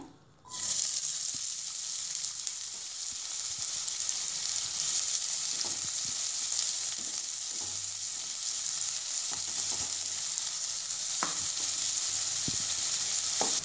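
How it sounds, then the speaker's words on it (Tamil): Onions sautéing in oil with cloves, cinnamon and cardamom, a steady, close sizzling hiss that runs throughout, with occasional faint stirring clicks and no voices. "இப்போ வெங்காயம் நல்லா வதங்கிடுச்சு"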